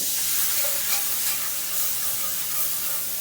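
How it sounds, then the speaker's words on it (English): Milk splashed into a golden flour roux for breakfast gravy, sizzling and hissing steadily in the pan with faint stirring, close and continuous with no talk. "Splash of milk."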